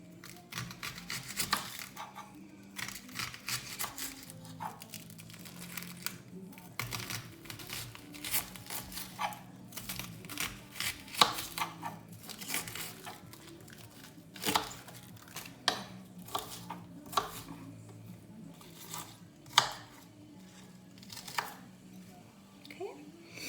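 A knife chops through an onion on a cutting board at home, with quick, irregular, close taps coming in bursts and pauses and faint background noise between them.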